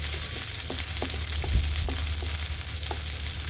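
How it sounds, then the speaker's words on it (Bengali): Chopped onion, garlic and sliced green chili fry in oil in a pan, a steady close sizzle with soft, irregular stirring taps throughout and no talk. "তো আমি এগুলোকে একটু ভেজে নিচ্ছি"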